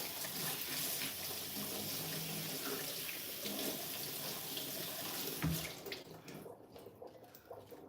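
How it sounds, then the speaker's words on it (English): A pineapple is scrubbed under running tap water at a sink, giving a steady close splash and rush. The water fades and turns quieter near the end, with no talking. "I sit here and I wash my pineapple. I like to scrub the outside."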